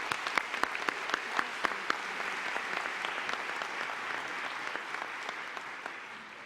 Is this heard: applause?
yes